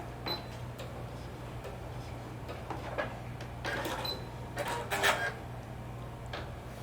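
A sewing machine runs back and forth while back stitching to secure a skirt seam, giving a low steady motor hum with light mechanical ticking and clicks throughout.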